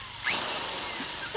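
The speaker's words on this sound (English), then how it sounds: "trusty drill to drill some holes in some 5-gallon food grade plastic buckets" Power drill boring holes in a 5-gallon food-grade plastic bucket, a continuous close whirring whine with a slight rise in pitch as the bit bites in, heard alone.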